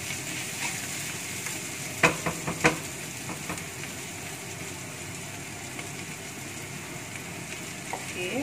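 Mixed vegetables stir-fry in a pan with a steady sizzle, broken by a quick cluster of spatula scrapes and taps near the start, close up with no voices.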